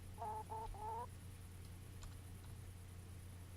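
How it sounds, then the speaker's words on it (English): Chickens in the video game Kingdom Come: Deliverance cluck in three quick bursts up close, then a quiet ambient bed with faint ticks. "Hello, chickens."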